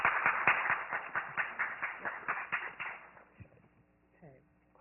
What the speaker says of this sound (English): So let's give a round of applause for Dr.